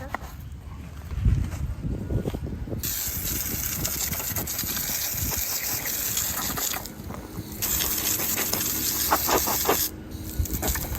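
Pressure-washer spray rinsing a grimy transmission from a 1999 Honda Civic, a loud steady hiss that cuts in and out in several bursts over a low engine drone.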